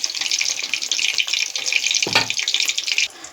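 Tomato chops frying in hot oil in a wok, a loud, close, steady hiss and crackle that runs unbroken, with one brief thump near the end before it quiets.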